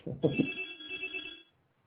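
A telephone rings with a bright, steady electronic trill lasting over a second before cutting off, heard close and clear with no talking over it.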